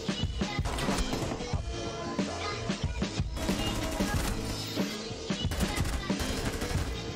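Dense, continuous gunfire and crashing impacts in Rainbow Six Siege, with rapid overlapping shots and bangs filling the whole stretch at a steady loud level.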